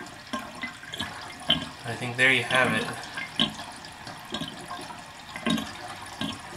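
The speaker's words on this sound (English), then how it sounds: "The water is rotating counterclockwise." Water drains from a sink and swirls counterclockwise down the plughole with soft gurgles and sloshing. It sounds close, with people talking over it.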